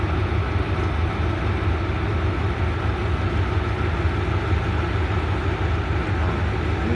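A steady, deep engine rumble runs without pause, the heavy low drone of a Hitachi diesel locomotive on a rapid train pulling out of Bangkok station, constant and close.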